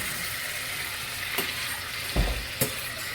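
Cabernet red wine sizzling in a hot skillet for a black cherry reduction sauce, a steady broad hiss with a few soft stirring knocks and clinks, close and continuous.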